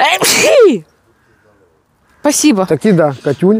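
A single sharp sneeze close by, followed by a short silence and then people talking in Russian in a home kitchen setting.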